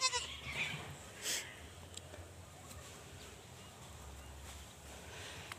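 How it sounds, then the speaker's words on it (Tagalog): A two-month-old goat gives a couple of short bleats near the start, close by, followed by quieter farmyard ambience with faint rustling and a low hum. "Ito po yung 2 months old natin na kambing, oh."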